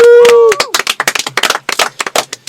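A short vocal whoop gives way to a handful of people clapping in a radio studio, quick uneven claps close to the microphone.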